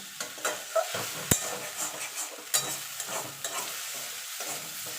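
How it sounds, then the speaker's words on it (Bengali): Semolina roasting on low-medium heat in a pan for halwa, a dry crackling fry broken by repeated scraping stirs, close and steady, with one sharp clink of the utensil against the pan. "এবার এটাকে আমি লটু মিডিয়ামে ভেজে নেবো দেখুন বন্ধুরা সুজিটা ভেজে দেখুন"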